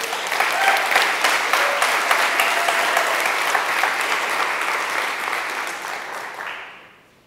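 A conference audience gives sustained, loud applause, a dense, even wash of clapping with faint cheers that fades out at the end.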